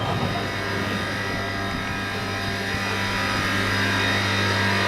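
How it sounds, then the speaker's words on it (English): A cryogenic vacuum freeze dryer running in a glowstick factory's drying room, giving a steady, loud mechanical hum and hiss with a constant tone and no breaks. "This is a cryogenic vacuum freeze dryer."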